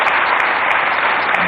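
Loud, dense applause from a crowd at a Delhi BJP government event, with continuous close clapping and no talk over it.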